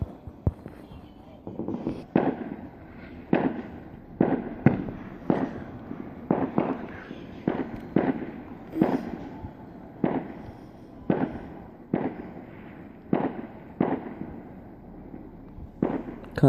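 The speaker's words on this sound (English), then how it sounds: "And here's some fireworks for you." Bonfire night fireworks burst in a steady run of small, sharp bangs, each followed by a short crackle, moderately distant and continuing without a break.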